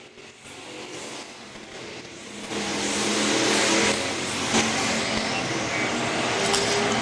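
Pure stock race cars roar around a track during a feature race, engines swelling from a distant drone into a loud, sustained, close rush of several cars passing together.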